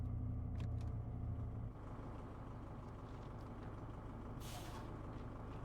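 Brakes of a DB BR 294 diesel locomotive in the Train Sim World 6 simulator, a loud pneumatic hiss and rumble that drops after the first stretch into a steadier airy wash, with a brief sharp burst of hiss near the end.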